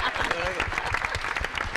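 A crowd of students claps during a campus interview event with a film actress and director, giving uneven, bursty applause with loud voices talking and calling out over it throughout.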